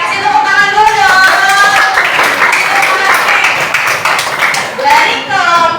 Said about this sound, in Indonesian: Oke, kasih tepuk tangan dulu dong.